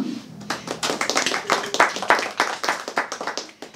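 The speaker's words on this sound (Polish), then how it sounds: "Wielkie brawa." Audience clapping for a modern jazz band at a live club concert in Kraków, a burst of uneven, fairly close hand claps rising and falling over a few seconds, with a brief low hum at the start.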